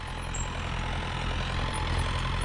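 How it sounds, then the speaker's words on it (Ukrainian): A tractor pulls a GENERAL disc harrow across a field. Its heavy engine drones loudly and steadily with a broad rumbling roar, and no voices are heard. "Бачите, трактор летить з ними."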